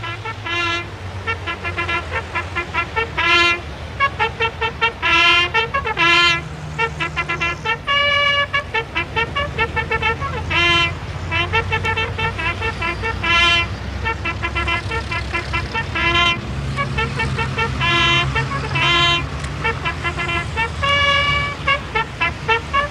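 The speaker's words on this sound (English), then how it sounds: "The king's convoy in action." The Thai king's royal motor convoy drives past in the 1970s, with loud car horns sounding in repeated short and long honks over a steady rumble of road traffic and engines.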